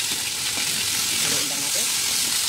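Carrots and garlic frying in a hot pan, a loud continuous hiss and crackle of sizzling oil with faint stirring under it.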